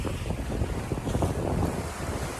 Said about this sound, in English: There's a big wave coming now.